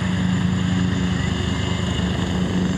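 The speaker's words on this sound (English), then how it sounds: "Eurocopter Tiger." A Eurocopter Tiger helicopter flies over at the 2023 Le Mans 24 Hours, a loud, steady rotor and engine roar with a low pulsing thump, close and sustained throughout.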